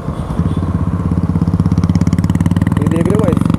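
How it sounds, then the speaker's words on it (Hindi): A Royal Enfield motorcycle fitted with an aftermarket exhaust thumps at idle with a steady, loud, rapid pulsing beat that rises slightly in intensity, while someone talks over it. "ये देख रहे हो भाई एग्जॉस्ट वाइन लगाया हुआ है रॉयल एनफील्ड में"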